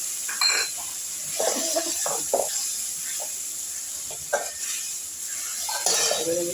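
Ginger paste dropped into a pan of hot oil for a Bengali fish-head and greens dish, a steady sizzle with repeated scraping stirs of a spatula against the pan, close and moderately loud.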